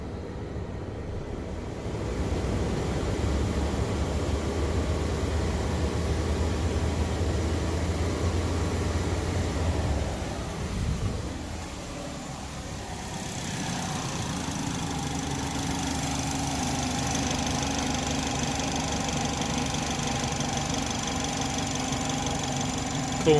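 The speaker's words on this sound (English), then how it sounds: "I'm just going to give the engine a little bit of a rev" A Chevy HHR engine runs steadily at idle, then is revved briefly and settles into a higher, smoother hum, close and continuous with no talk.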